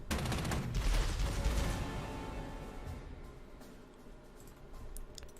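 Gunfire rattles against an artillery unit in the wartime strategy game Panzer Corps 2, a dense loud burst of rapid shots and blasts that gradually fades into a quieter crackling tail.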